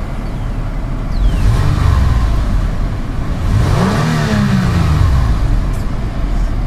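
A 2005 Toyota Highlander's V6 engine with variable valve timing, heard under the hood as two revs that rise and fall back to a steady idle, close and loud.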